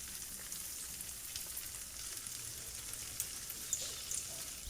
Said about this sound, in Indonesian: bisa langsung kita goreng di minyak panas di api sedang agak besar sedikit